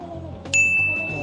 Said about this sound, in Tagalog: pag naubos mo na yung chocolate, pwede kang mag-bell dito